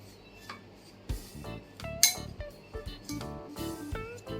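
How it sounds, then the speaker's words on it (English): Coconut and roasted makhana powder are stirred in a bowl, giving irregular clinks and scrapes of a utensil against the dish, close and moderately loud, with no talk. "We have to mix this mixture well."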